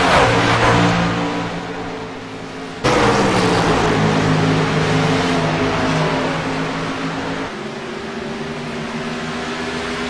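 Race car engines roar steadily on a track in a racing game, harmonic engine tones rising and falling as cars pass, with an abrupt cut partway through and sustained loud drone.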